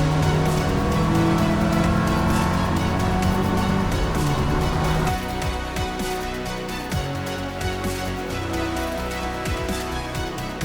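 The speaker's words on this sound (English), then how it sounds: "Cheeky midnight blue RS2000 in Enniskillen town." A midnight blue Ford RS2000 drives through Enniskillen town, its engine droning loudly and steadily before easing to a quieter, rougher running note with a few short tire and road noises.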